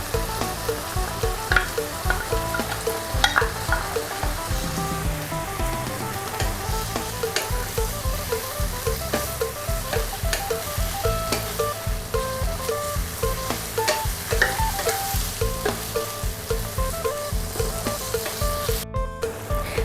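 Bamboo shoots and pork stir-fry in a hot pan with basil, a loud, steady sizzle broken by frequent scraping and clattering of the spatula, close up and without any talking.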